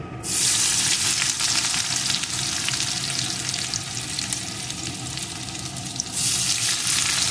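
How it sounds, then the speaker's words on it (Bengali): Chopped onion hits hot oil already frying a dried red chilli and panch phoron, giving a loud, continuous close sizzle with stirring that softens briefly and then flares up again near the end. "এর ভিতরে আমি পেঁয়াজ কুচিটাকে আগে দিয়ে দেব"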